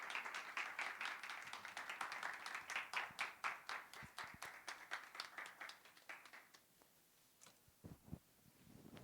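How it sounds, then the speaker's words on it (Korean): Church congregation clapping to welcome a visiting pastor at a staff dedication worship service: a steady round of close, crisp hand claps that thins and fades after about six seconds, leaving a few scattered claps. "큰 박수로 환영하겠습니다"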